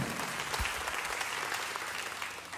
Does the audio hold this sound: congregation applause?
yes